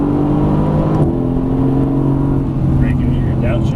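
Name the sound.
Mercedes AMG GT S accelerating hard out of a corner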